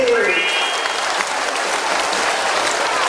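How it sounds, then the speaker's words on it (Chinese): A live audience breaks into loud, sustained applause at a stage show, dense clapping from a large crowd filling the hall, opening with a brief tone before the clapping settles into a steady roar. "掌声鼓励！"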